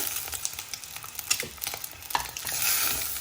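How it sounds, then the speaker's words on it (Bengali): Fried eggs stirred in a pan, scraping spatula strokes and clicks over a close oily sizzle that swells louder toward the end, with no one talking. "আমার ডিমগুলো ভাজা শেষ সুন্দর একটা কালার আসছে ডিম ভাজা"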